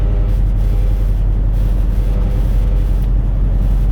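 Heard from inside the cab, a truck on the road slows down under a loud, steady low rumble of engine and road drone with no pauses.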